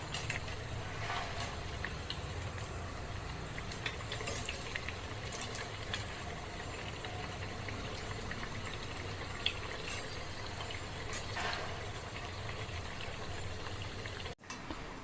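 Potato bhaji frying in hot oil, a continuous busy bubbling and crackling sizzle held steady throughout at moderate level with no talking.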